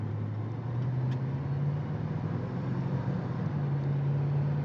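A 1971 Pontiac GTO engine idles at a steady, smooth low rumble, close and even throughout, with no talking.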